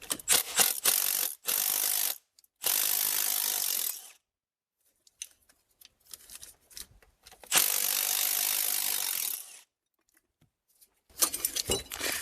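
Wrench ratcheting on 10 mm bolts on a Ford Escape during transmission removal, with several loud bursts of rapid clicking separated by short pauses and quieter handling noises in between.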